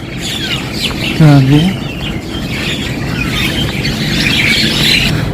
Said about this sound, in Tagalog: Ang ganda ng tunog ng mga ibon, eh.